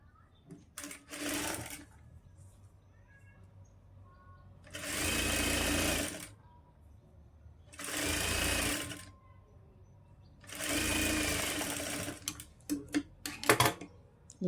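An electric sewing machine stitches the neck of a lined blouse in three sustained runs of rapid, even needle chatter, separated by quiet pauses with faint handling clicks, recorded at a low level.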